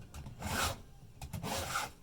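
A file rasping across chainsaw chain teeth during sharpening, two long, close, scraping strokes in a steady back-and-forth rhythm, with no talk.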